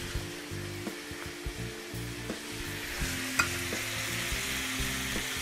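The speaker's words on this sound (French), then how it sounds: "on va rissoler les pommes de terre" Potatoes browning in melted butter in a pan give a steady, close sizzle and crackle, with occasional scrapes and stirs cutting through the frying hiss throughout.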